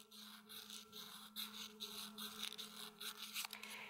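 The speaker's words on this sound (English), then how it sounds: "Sometimes I just like taking my little fine sandpaper here and just swiping it along the inside of the ring" Fine sandpaper rubs along the inside of a silver ring in quick, faint, repeated scraping strokes, recorded close in a quiet room.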